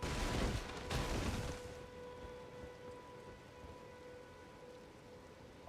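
Rain falls in the video game Elden Ring, first as a loud burst of dense pattering, then as a softer, steady wash over a low continuous hum.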